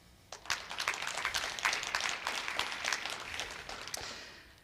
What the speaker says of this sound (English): Will you join me in a round of applause to thank all those involved?